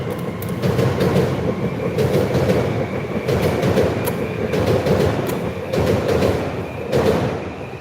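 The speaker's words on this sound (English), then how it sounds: "It's one of our suburban trains heading towards Dandenong." Suburban electric train heading towards Dandenong passing close by, a loud continuous rumble with repeated clickety-clack wheel beats over the rail joints throughout.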